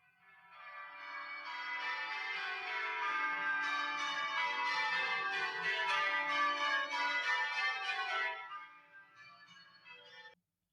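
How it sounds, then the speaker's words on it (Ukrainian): Church bells ring in a dense, bright peal that swells in, sustains loudly for several seconds, then fades out, with no talk. "Раптом задзвонили дзвони."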